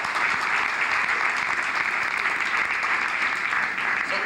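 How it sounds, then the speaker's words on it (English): A lecture audience breaks into loud, dense applause that holds steady and continuous for the whole span, with no voices rising above it. "So I think we should applaud Brother Maddox for that."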